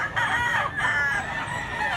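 A young stag rooster, medium-sized with blue legs, crows and clucks up close at a chicken sale in Mantalongon, Cebu. The call is strained and continuous, with no talking over it.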